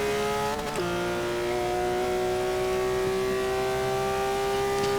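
A Porsche 911 GT3 RS 4.0 race car engine in Forza Motorsport 6 holds a steady high-pitched whine, with a brief gear-change dip near the start, loud and continuous.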